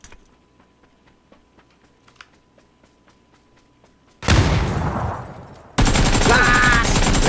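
AKM rifle fire in PUBG. Quiet keyboard-like clicks come first, then a loud burst of gunfire about halfway through, a short fading gap, and a second dense, sustained volley at the end.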